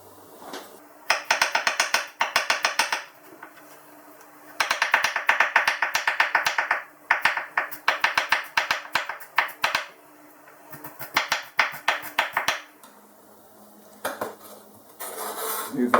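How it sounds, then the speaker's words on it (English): A knife finely chops fresh ginger on a board in quick bursts of rapid, crisp taps, pausing briefly between flurries, close and fairly loud with no voices. "What I'll do is chop that finely."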